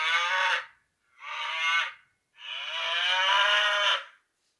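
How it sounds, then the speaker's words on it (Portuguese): Three loud, close moos from a recorded cow: a short call, a second short one, then a long sustained moo, each separated by silence and with no voices present. "É o som da vaca"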